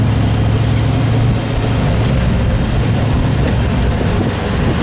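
A Rover V8 car with an improved gearbox drives on the road, giving a loud, steady, continuous engine and road rumble heard from inside the cabin, with no talking.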